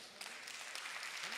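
An audience at a Hindi comedy poetry show breaks into applause, a soft, steady patter of clapping heard at a distance, with a voice faintly underneath.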